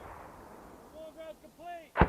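Artillery gun firing: after a stretch of low rumble and a few faint tonal calls, a single sharp, loud blast lands right at the end.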